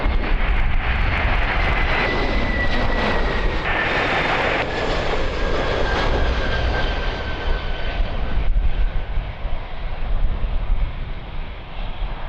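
An airliner on approach to Lisbon Airport in strong wind, its engines roaring loudly and steadily from start to finish, with a faint falling whine and gusty wind noise on the microphone.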